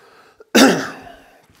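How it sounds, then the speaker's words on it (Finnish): A single sharp cough rings out in an echoing abandoned school building, a quick harsh burst that trails off into the room's reverberation, with only faint background noise around it. "Yskää."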